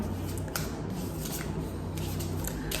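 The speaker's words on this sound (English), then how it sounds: "So I'm just gonna shuffle it and then pull" A deck of smooth oracle cards shuffled by hand, giving a steady soft riffling and sliding close up, with a few sharper card snaps along the way and no talk.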